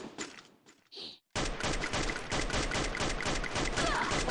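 Rapid bursts of automatic gunfire from a newly added weapon in the shooter game Free Fire, a few brief shots first, then after a short pause a continuous loud volley of fast repeated rounds.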